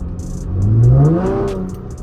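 Chevrolet Camaro V6 with an 80mm throttle body fitted, revving then hanging at a raised idle after the gas is released, a close engine note that swells and holds high with faint ticking in the background.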